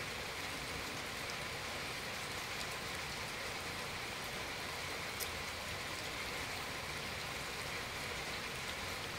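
Steady rain falls outside a home, a dense, even hiss of drops on surfaces that holds unchanged throughout with no voices.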